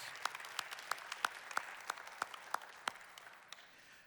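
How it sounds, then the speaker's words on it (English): Sparse, faint clapping at a volunteer appreciation event honoring Catholic Charities of Fort Worth, with roughly a dozen distinct claps in an uneven rhythm that thins out and fades away. "Let's give them a round of applause."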